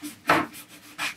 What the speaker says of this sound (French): on va retravailler à la brosse